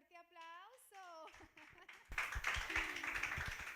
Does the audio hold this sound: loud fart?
no